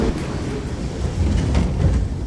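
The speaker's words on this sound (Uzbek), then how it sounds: "Mana metro ovozi eshitilgandek bo'ldi." An underground metro train approaching a station platform, heard as a low, steady rumbling roar that swells slightly toward the end, with faint metallic rattles and no clear speech.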